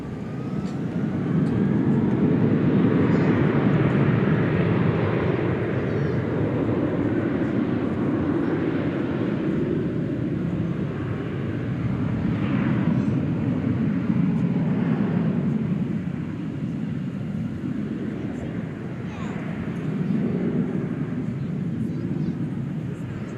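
A jet aircraft takes off at DFW Airport at night, a loud, steady broadband roar that swells and eases slightly over the whole stretch with no gaps.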